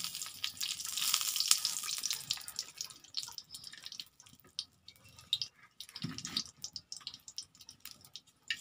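Pumpkin frying with dried chillies in hot oil: a bright, loud sizzling hiss at first, easing into quieter intermittent crackles, spatters and clinks from the pan.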